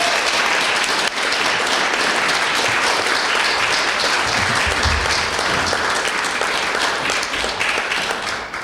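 An audience claps steadily to welcome a poet at an arts café reading. The applause is loud and sustained for over eight seconds, with a slight dip early on and a gradual taper at the close.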